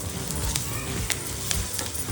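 Steady, close sizzle of curry leaves, dry red chillies, Kashmiri red chilli powder and hing frying in hot oil, with faint crackles and spatters across the short stretch.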